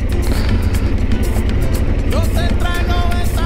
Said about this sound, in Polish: Wjechałem w kałużę.